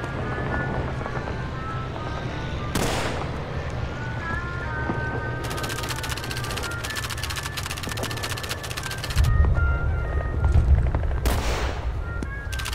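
Rifle shots fired at helmets on a target range in a Call of Duty game, a few sharp reports early followed by bursts of rapid crackling fire and a heavier blast, with wind in the background.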